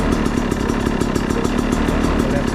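Motorcycle engine on choke, being revved gently to warm up, giving a loud, steady, rough mechanical roar with fine rapid clatter and no pauses, heard close by.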